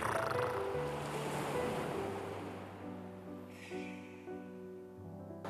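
Surf rushes over the pebbles of Mojini Beach on Chujado island, loud at first and then softening as gentle background music rises over the steady wash of water.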